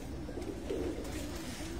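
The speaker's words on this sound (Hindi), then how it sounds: "ये लंबा उड़ा हुआ कबूतर है" Pigeons coo softly on a rooftop loft of long-flying racing pigeons, low throaty calls rising briefly over a quiet, faint background with no talk.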